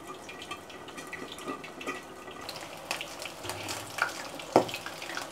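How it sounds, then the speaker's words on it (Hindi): Boiled eggs fry in very hot oil, giving a continuous crackling sizzle with scattered sharp pops and spatters, close and moderately loud, with no talking. "इसे बहुत एहतियात से फ्राई करना है, ये उछलते भी हैं और छींटे आ जाती हैं।"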